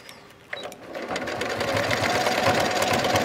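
A sewing machine stitching the 1/8-inch seam of a Debby bag, starting after a soft click and quickly building to a steady, close, rapid whirring run.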